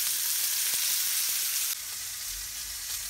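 A pot roast searing in a hot pan hisses with a dense, steady sizzle that drops a little in loudness partway through, close and without any talking.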